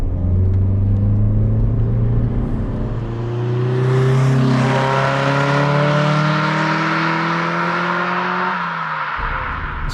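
A 1990s sports car with about 111 brake horsepower climbs a mountain road, its engine droning loud and close as it accelerates through rising revs, with a gear change near the end.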